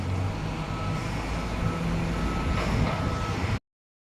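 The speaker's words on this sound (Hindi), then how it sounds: "अपना कंटेनर उठाने वाली है गाड़ी मशीन। इस मशीन को जो है दोस्तों कलमार बोलते हैं" A Kalmar container handler at a container yard sounds repeated reversing beeps over a loud, steady diesel engine drone while lifting a container, close by, then cuts off abruptly.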